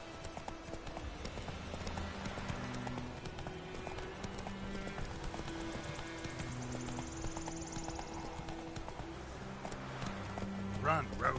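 Horse hooves clip-clop in a steady galloping rhythm throughout a Witcher 3 gameplay scene, moderately close, with game music and character dialogue running over the hoofbeats.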